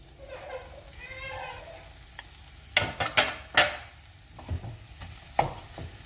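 Indian tempering (popu) poured into a finished curry, sizzling and crackling in several sharp bursts midway through, with a faint voice heard earlier.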